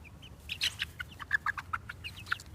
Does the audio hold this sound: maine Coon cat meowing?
no